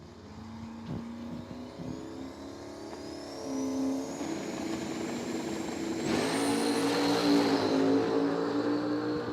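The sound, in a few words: Camaro and Mustang drag racing at dragway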